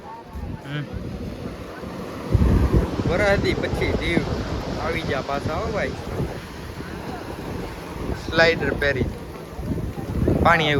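Sea waves wash in at Nagoa Beach in Diu with a steady surf roar and gusting wind buffeting the microphone, while people talk and call out over the water throughout.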